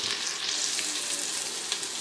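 Finely chopped onions fry in a pan over a medium flame, turning golden brown. The sizzle is close and steady, with occasional stirring sounds and no talk.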